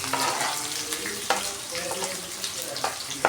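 Chopped large onions and green chillies sautéing in a pan for vermicelli upma, a soft steady sizzle with occasional scraping and stirring clatter close by.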